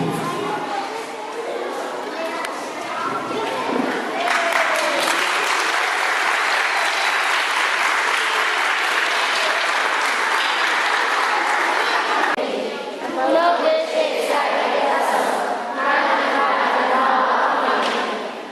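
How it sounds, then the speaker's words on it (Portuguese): Dense, sustained applause from a crowd at a 2012 year-end celebration at a youth center, with voices and cheering mixed in throughout and a brief dip in intensity near the end. "Vamos dar uma salva de palmas para Jesus, menino"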